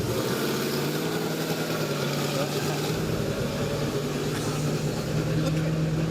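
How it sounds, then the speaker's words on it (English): A souped-up Holden Kingswood from the 1970s idles with a steady, loud, low rumble, fitted with a double-barrel carburettor, its engine note running continuously beneath people talking nearby. "And I'll just wait maybe till that wonderful car. What is it? Oh, souped up Kingswood."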